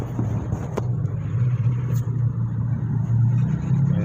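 Heavy lunchtime traffic crawls through a jammed street in Makassar, a steady close rumble of car and motorbike engines with occasional revving, continuous and fairly loud.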